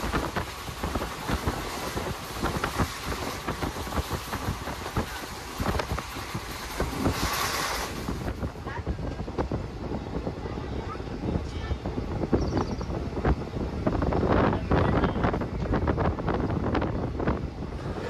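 Inside a moving train in India, a continuous rumbling, rushing noise with wind buffeting the microphone holds steady throughout at moderate loudness.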